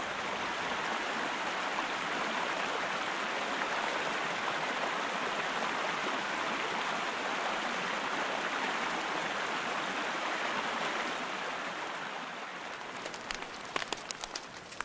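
Continuous broadband rushing of a river flowing below a campsite at Goonan's hut in the Victorian High Country, steady and close, easing slightly near the end as a few faint clicks and knocks appear.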